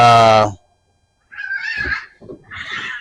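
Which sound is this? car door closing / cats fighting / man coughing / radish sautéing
cats fighting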